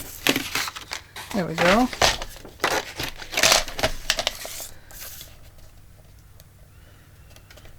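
Paper being cut and handled for a removable journal signature, with close crinkles, snips and rustles in quick bursts, a brief squeak, and a short spoken remark partway through before the sounds fade to quiet.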